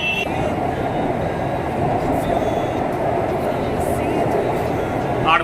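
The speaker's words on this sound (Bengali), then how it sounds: "আমাদের ট্রেনটা কিন্তু গঙ্গার তলা থেকে যাবে" Kolkata underwater metro train running through the tunnel under the Ganga river, a steady loud rumbling roar with no letup, and a few faint high squeals near the end.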